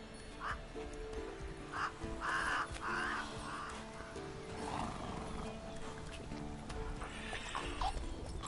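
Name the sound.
horse Roach neighing and clip-clopping in The Witcher 3 video game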